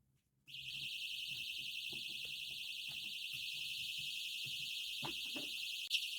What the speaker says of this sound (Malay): Penggera ni kita akan hidupkan dulu.